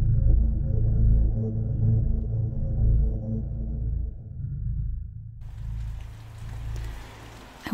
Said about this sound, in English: I wonder if you can hear the rain outside my window.